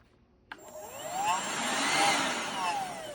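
A Kenmore DS1020 16V cordless stick vacuum in handheld mode switches on with a click and spins up into a steady high whine with a rising and falling pitch, close and alone.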